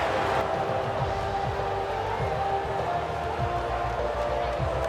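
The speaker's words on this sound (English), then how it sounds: "they thoroughly deserve the cheers of the crowd here today" A racing video game crowd in F1 24 cheering and roaring at a distance, a broad, steady wash of noise that runs throughout, with a commentator's voice talking over it.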